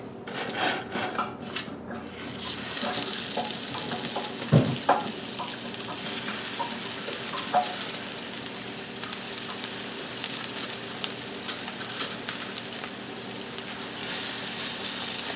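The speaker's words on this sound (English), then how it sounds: "I'm going to fry each one of these patties up" Salisbury steak patties sizzle steadily in a frying pan, a dense, continuous hiss and crackle held close throughout, with a brief clunk of utensil or pan partway through and no talking.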